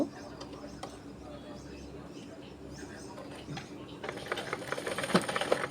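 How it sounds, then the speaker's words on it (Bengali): A sewing machine stitches a rope through a triangular hanging decoration, faint and ticking quietly at first, then its rapid stitching grows more distinct toward the end. "মাঝ বরাবর দিয়ে এই যে সেলাই করে নেব"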